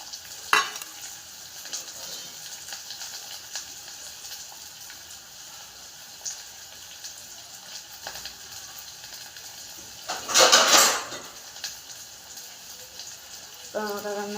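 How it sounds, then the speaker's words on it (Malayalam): Food cooking in a pan gives a steady low sizzle throughout, with a brief scraping burst from a spoon stirring it partway through and a few soft clinks, close and moderate. "നമുക്കതൊന്ന് ഇളക്കി കൊടുക്കാം."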